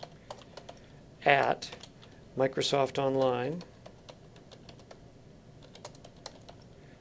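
A computer keyboard clicks out a username and password in quick, uneven bursts of light taps, close and clear, with someone talking briefly over the typing partway through.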